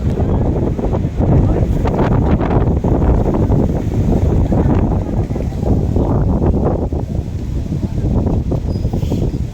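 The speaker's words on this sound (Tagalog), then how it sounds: "malakas ang hangin ngayon dito." Strong wind in People's Park buffets the microphone with a continuous loud roar and gusty rumble, no other sounds standing out.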